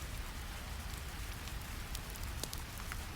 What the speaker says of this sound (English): Rain sounds fade to brown noise.